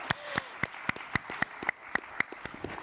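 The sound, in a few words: audience clapping at panel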